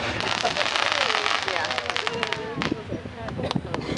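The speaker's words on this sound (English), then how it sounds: "the next piece is this is called the Crackle Comet" A Crackle Comet firework fills the air with dense, continuous crackling pops at a private fireworks demonstration, loud and close, with people talking underneath.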